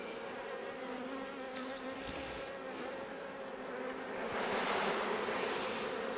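Honeybees swarm around a hive in a dense, continuous buzz, close and steady, with the drone swelling louder toward the end.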